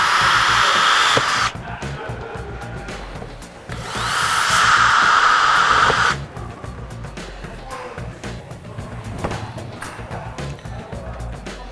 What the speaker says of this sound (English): drill through it through the bottom bar.